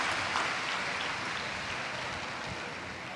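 A large crowd at a Shiv Mahapuran religious discourse in Kashi claps, producing a dense, hissy wash that fades slightly toward the end, with no voices on top.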